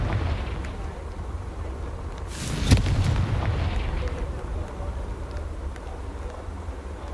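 Confringo blasting spell in Hogwarts Legacy, a single loud, sharp explosive burst near the middle over ongoing low rumbling game ambience.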